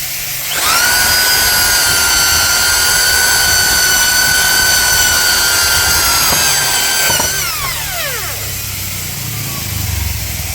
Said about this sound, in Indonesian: Selanjutnya kita akan melubangi kayu pinus atau kayu jati Belanda.